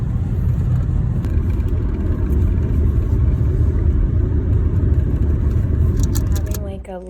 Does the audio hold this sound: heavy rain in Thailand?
no